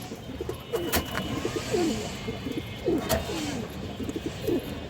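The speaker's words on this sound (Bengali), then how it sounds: "একটা আর্মি লাইনের মাদি কৌতর আছে এই দেখেন দর্শক" Several low pigeon coos come in a loose, repeating rhythm close by from an army-line female pigeon kept among other birds, with steady background noise and no talk.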